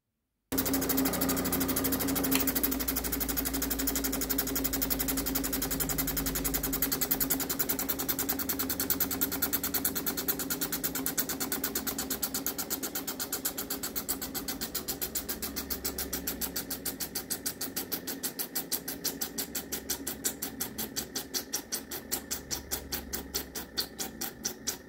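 A lapidary machine grinds and polishes green petrified wood, producing a steady motor drone with a rapid, regular mechanical chatter that grows more pronounced and rhythmic toward the end, close and continuous without speech.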